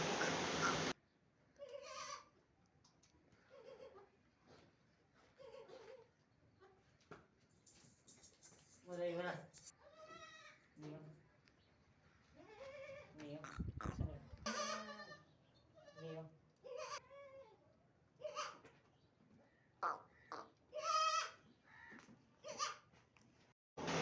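Goats, including a Pateri goat with kids, bleat at a livestock sale in a goat market, repeated quavering cries that are faint and scattered among people talking over them.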